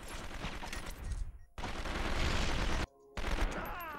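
Gunfire in a cop simulator video game, a dense loud burst of rapid shots broken by two abrupt gaps of silence, harsh and close throughout.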